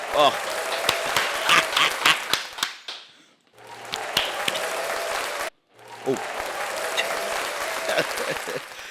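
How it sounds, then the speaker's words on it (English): A small podcast crew gives a traditional round of applause: close, crisp individual claps in quick bursts, broken by two short silent gaps, with sharp slaps standing out from the group. "giving you our traditional round of applause"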